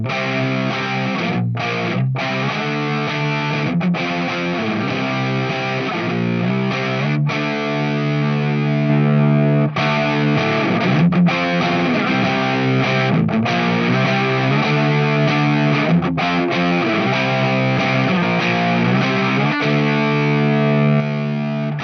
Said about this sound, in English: I might just bring the tone down a little bit to get a nice thick distortion,